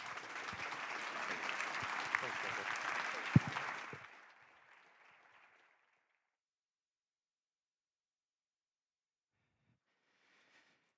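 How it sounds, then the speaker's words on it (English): Applause from a conference audience for a closing plenary panel on salmon recovery, steady full clapping for about four seconds that quickly fades into near silence, followed by a faint distant hiss. "a round of applause"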